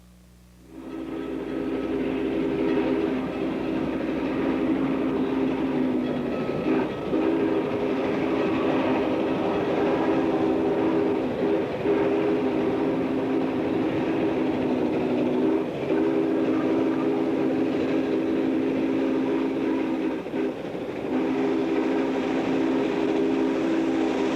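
Riding aboard the N&W 611 steam excursion train: a steady, close rolling rumble with repeated wheel clatter that carries on for the whole stretch, with no talk.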